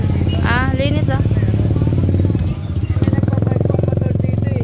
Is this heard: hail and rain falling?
no